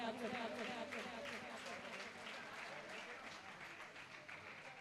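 Audience at a Jain religious gathering with Muni Shri Pramansagar Ji Maharaj applauds steadily, a dense wash of many hands clapping for the whole stretch, with faint voices mixed underneath.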